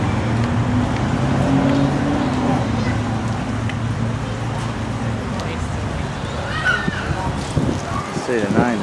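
Local bus on Baylis Street in Wagga, NSW, idles with a low engine rumble among surrounding street traffic, then revs and pulls away toward the end.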